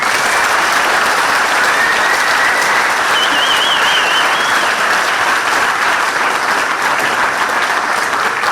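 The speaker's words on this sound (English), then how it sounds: "I want to say a big round of applause and thank you to all of you" A large audience applauds park rangers in sustained, dense clapping that stays loud and even throughout, with no talking over it.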